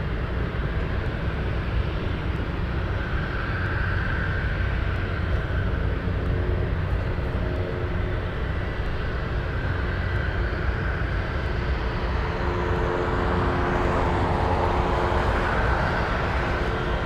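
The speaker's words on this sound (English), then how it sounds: "Really cool plane pushing back from Everett's Air Cargo." An MD-80 cargo jet pushing back at Anchorage airport, its engines a steady, loud broadband roar with a constant low rumble that holds for the whole stretch, with no voices over it.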